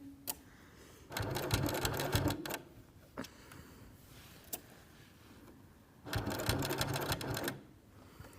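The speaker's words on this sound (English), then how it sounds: "I'm gonna do a back stitch here, just so I know that the stitches are in place" A sewing machine stitches a triangle-shaped pencil case in two fast rattling bursts of a second or so each, separated by quiet handling clicks, loud and close with no speech.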